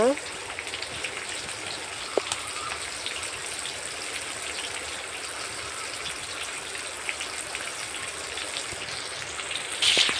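Silver carp pieces frying on a clay stove, a steady broadband crackle and hiss that stays even throughout with no talking.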